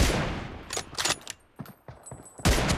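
Gunshots in the PUBG Mobile battle royale game, several sharp cracks with a burst at the start and another near the end, loud and close.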